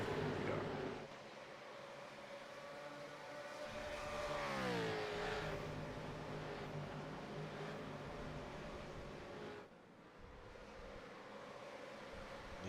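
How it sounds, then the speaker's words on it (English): V8 Supercars race past at Oulton Park circuit, one engine note rising and then falling in a clear pass-by, heard from a distance under steady wind and crowd-like ambience. "Listen to that sound of them V8s flying past"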